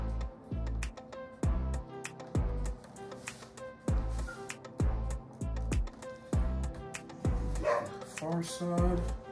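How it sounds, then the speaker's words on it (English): A dog barks repeatedly in quick bursts close by, mixed with a person talking and other background sounds. "Look, my dog's barking."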